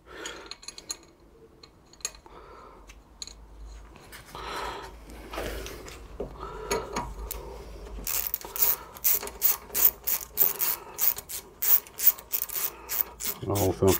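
A ratchet tightens a fastener while a rear wheel bearing is replaced on a Peugeot 107, Citroën C1 or Toyota Aygo, producing a quick series of sharp close clicks in the last six seconds after quieter mechanical handling noises.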